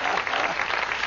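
A church crowd at a healing meeting applauds Jesus with dense, steady clapping that fills the room at a constant loud level, with no pauses.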